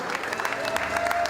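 Guests clapping together at a 50th wedding anniversary party, a brief burst of dense, continuous applause with a crowd murmuring underneath.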